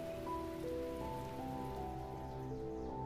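Steady rain on surfaces in the video game The Talos Principle, a continuous hiss under soft sustained tonal music that carries on without a break.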